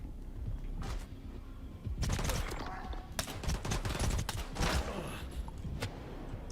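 Rapid pistol shots ring out in bursts in a first-person shooter video game, loud and close over a busy game soundtrack, with several sharp reports in quick succession.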